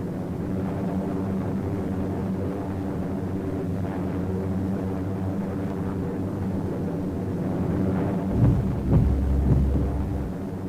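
Bombers attack a Japanese airstrip in the Aleutians, a continuous heavy drone of aircraft engines with dull rumbling explosions, swelling into louder bursts near the end.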